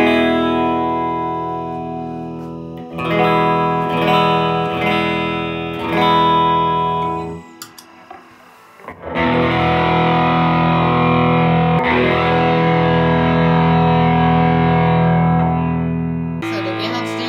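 Electric guitar through an amp with no pedal in the chain: a run of evenly struck chords, a brief pause, then a loud, gritty chord left ringing with sustain, close and alone.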